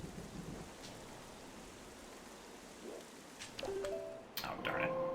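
Steady rain and rumbling thunder from a video game storm fill the background, with a few sharp crackles and tonal game effects arriving near the end, moderately loud and continuous.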